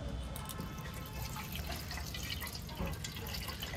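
Whey from curdled cow's milk drips and trickles steadily through a white cotton cloth spread over a strainer, a continuous close wet patter with no talking.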